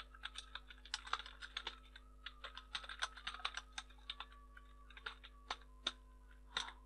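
Typing a message on a computer keyboard, a quiet, irregular run of close key clicks in quick bursts with short pauses, no voices.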